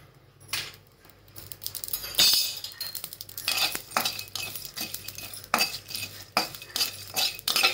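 Whole spices, including cardamom, cinnamon, star anise, black pepper, cloves and shahjeera, are dry-roasted in a pan with steady metallic scraping, clinks and rattles of a spatula, close and moderately loud, with no talk.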